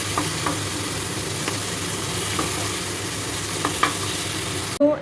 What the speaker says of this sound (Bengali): এবার ভালো করে এটাকে কষাবো